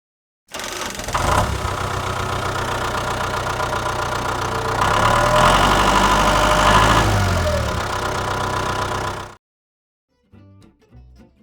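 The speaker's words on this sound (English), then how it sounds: "I think it is high time we start this big old tractor up and see what it can do" A big tractor engine in a Minecraft game starts up and runs at a steady rumbling idle, loud and close, revving slightly in the middle before cutting off abruptly, followed by a few faint clicks.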